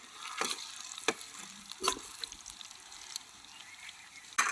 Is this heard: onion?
yes